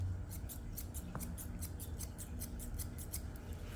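Grooming scissors trimming a Yorkie's coat, making a steady run of quick, crisp metallic snips close to the microphone over a low background hum, with no talking.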